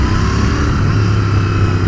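Royal Enfield Continental GT 650 parallel-twin motorcycle engine, a steady, loud, close rumble with a deep low throb held for a couple of seconds.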